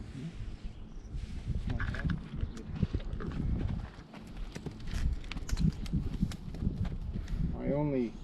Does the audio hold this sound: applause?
no